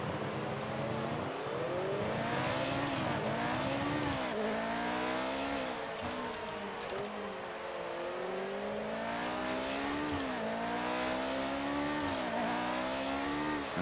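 Race cars in the F1 2019 game, a McLaren M23 and Lotuses, roar close by with engine pitch rising and falling through repeated gear shifts, a steady loud whine with no voices.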